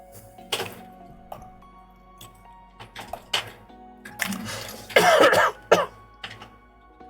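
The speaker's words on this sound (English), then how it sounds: "Coughing and choking." A character in the video game Stationeers coughing and choking in a run of rough, irregular hacking bursts that grow heavier toward the end, over faint mechanical background noise.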